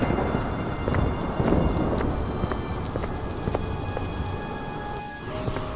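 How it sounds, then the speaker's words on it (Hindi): Heavy rain pours steadily and densely, with a dull rumble of thunder rolling underneath the downpour. "रास्ते में बहुत जोरों से बारिश शुरू हो जाती है।"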